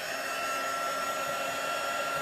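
A heat tool runs steadily to dry watercolour paper for a stamped background, a continuous close whirring hiss with no change in pitch or level throughout.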